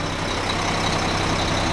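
An older Mack concrete mixer truck idles close by with a steady, loud diesel rumble and a low, even throb over a short stretch, with no talk.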